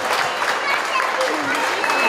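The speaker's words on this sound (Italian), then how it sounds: "un grande applauso da parte vostra." Crowd applause at a pizza festival prize ceremony in Italy, a continuous loud clatter of many hands, steady and dense for the whole stretch, with faint voices mixed in.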